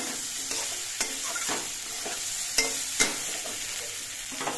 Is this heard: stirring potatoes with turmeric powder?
yes